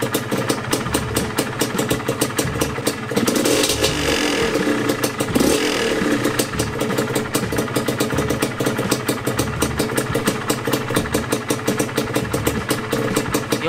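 A Yamaha DT125 two-stroke motorcycle engine, freshly given a top end rebuild, idles steadily up close with a rapid even pulsing and a brief blip of revs partway through.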